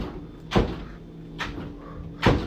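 A door bangs and rattles three times at roughly one-second intervals, each a loud, close thump with a wooden knock. Low background hum runs between the hits.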